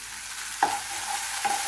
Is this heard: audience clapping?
no